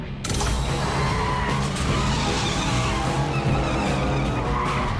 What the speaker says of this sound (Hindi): गाड़ी घुमाओ और पीछा करो